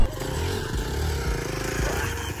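A Hero XPulse 200 4V Pro motorcycle riding off-road, its engine droning steadily and loudly close by with rattling and scraping from the rough ground.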